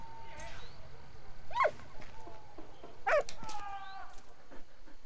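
A dog in the World War I video game Valiant Hearts: The Great War gives two short, high whimpering yelps a second and a half apart, over quiet in-game background ambience.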